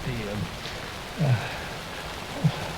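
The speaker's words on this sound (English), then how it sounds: "The garden lights started to flicker, the darkness and rain pressing against the windows." Steady rain pattering against windows in the video game Alan Wake 2, a soft, constant wash of drops with faint low rumbles underneath and no talking.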